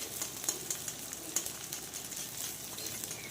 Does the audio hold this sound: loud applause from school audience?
no